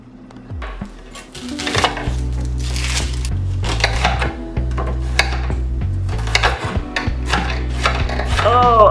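Onion being chopped on a cutting board for a vegan chana masala, a steady series of knife taps and thuds running throughout at close range, with kitchen clatter and no talking.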